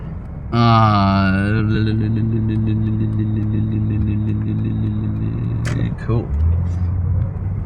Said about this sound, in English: there's a lot of traffic, man.